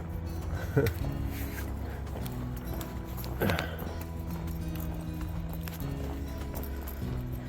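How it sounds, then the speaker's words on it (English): Donkeys approach along the Florida Trail, their hooves giving soft, scattered clopping steps at close range, nearly masked by a steady outdoor hum, with a few louder knocks and a person talking at times. "Some donkeys back here."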